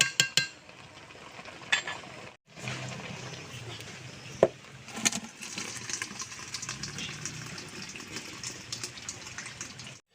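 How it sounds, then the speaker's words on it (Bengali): Water is drained off boiled taro: a few metallic clanks of the pot, then a steady close gush of pouring water that runs for several seconds, broken by occasional knocks. "আমি নাবিয়ে জলটা ঝাড়িয়ে নেব"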